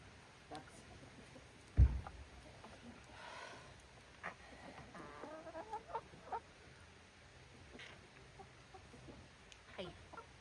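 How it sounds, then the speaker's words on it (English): Farm ducks kept in a winter pen call in short soft quacks and clucky sounds scattered through the clip, fairly quiet, with one sharp thump near the start and low background noise. "Ducks."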